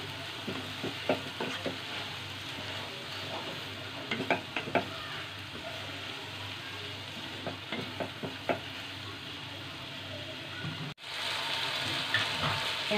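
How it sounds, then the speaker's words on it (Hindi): Vegetables for hakka noodles are stirred in a hot pan, giving a steady sizzle with repeated scraping strokes in short bursts, close and moderately loud throughout, with a brief cut near the end. "हम फिर से इसे चलाएंगे"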